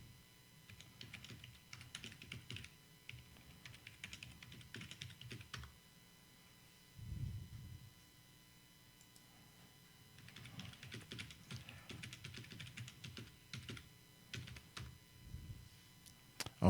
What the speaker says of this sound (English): I'm just typing her right now